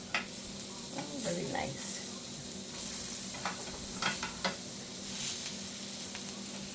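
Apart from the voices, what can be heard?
little onions sizzling while frying in a hot pan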